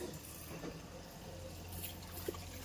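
Water runs from a household pipe fed by gravity from above without a motor, in a home where a tap has broken; a faint, steady trickling flow continues throughout.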